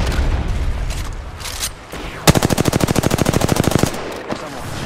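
Automatic gunfire in a video game with the Wraith character: a rapid, evenly spaced burst of about twenty loud close shots lasting over a second, following quieter scattered game noise and distant pops.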